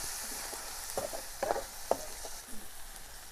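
Eggs frying in a wok over a village wood-fired clay stove: a faint, soft sizzle with a few quiet scraping stirs.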